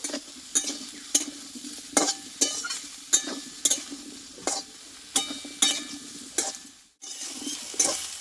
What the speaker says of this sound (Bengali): এবার এই আলুর মধ্যে আমি সোয়াবিনটা দিয়ে কষে নেব আলু সোয়াবিন আমি একসঙ্গে ভালোভাবে কষিয়ে নেব